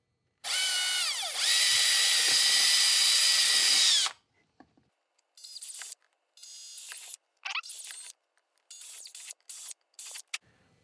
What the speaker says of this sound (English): I'm going to go in with a 532 bit and drill my mounting holes here